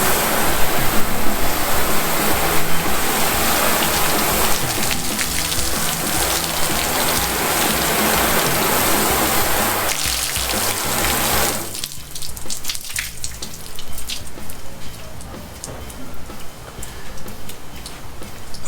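Low-pressure water spray with no soap rinses dirt off a car's coated paint, a steady loud hiss of falling water that softens and thins after a brief break partway through.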